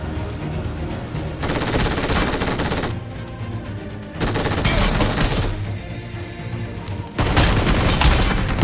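Bursts of automatic gunfire from a PUBG battle, loud sustained volleys of several seconds each separated by shorter pauses, with rapid shots, a few booms and no speech.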